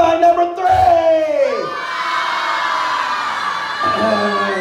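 Crowd at a haunted amusement park Halloween show yelling loudly together, a sustained mass shout that swells and holds, with a host's voice briefly over it.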